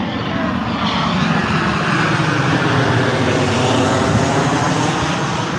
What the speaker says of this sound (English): that's a big ass plane